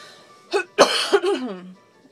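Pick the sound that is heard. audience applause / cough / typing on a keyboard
cough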